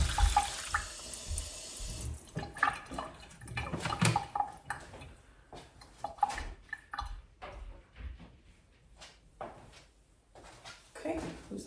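Tap water runs and splashes into a sink while seeds are being watered indoors, an intermittent gushing stream with clattering handling noises and a person talking over it.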